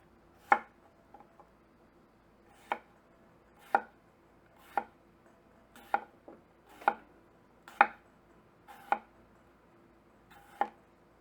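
Shun Sora chef's or santoku knife wedging through food on a cutting board, nine sharp chopping strokes spaced about a second apart, close and clear against quiet background.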